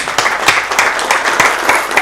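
A round of audience applause at a transitional justice policy symposium, loud and close, with distinct claps rising out of a continuous clapping texture over about two seconds.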